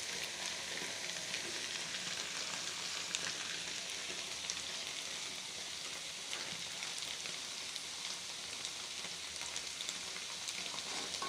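Egg frying over a high flame in a pan for egg fried rice, a steady, loud, dense sizzle that crackles continuously throughout with no voices.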